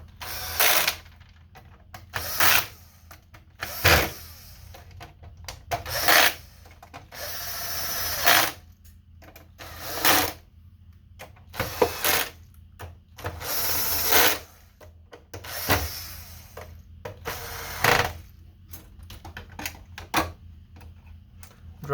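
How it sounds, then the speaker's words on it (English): Screws being driven into the side panel of a PS5 console during an HDMI repair, heard as a series of about a dozen short, close mechanical ratcheting bursts separated by brief pauses, with no talking. "now we can put the side panel on here and screw all those in."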